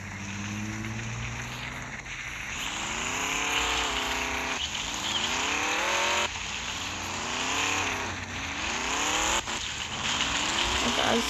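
A car in the Mad City video game drives with repeated revving engine sweeps that climb and drop in pitch, loud and continuous, in a steady cycle of acceleration and gear changes.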